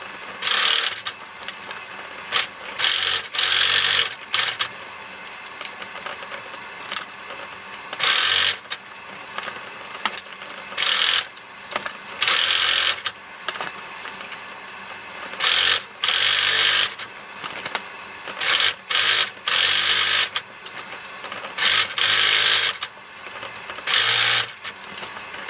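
A sewing machine stitches a circular seam on a fabric basket in repeated loud bursts of rapid whirring, each lasting a second or two, separated by short pauses as the fabric is turned.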